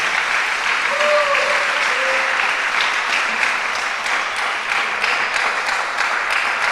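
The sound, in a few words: church congregation applauding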